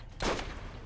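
A single short burst of turret gunfire in the game Borderlands, a quick loud crack fading into a brief rumble, heard close with no talk.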